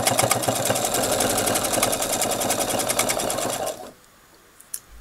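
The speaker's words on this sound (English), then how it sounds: "And again, do my stitching," A sewing machine runs steadily, stitching along a marked guideline with a fast, even mechanical rhythm for about four seconds before it stops and near silence follows.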